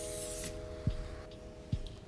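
A can of grease spray releases a brief, close hiss onto a baking tray, followed by a couple of quieter puffs and two light taps.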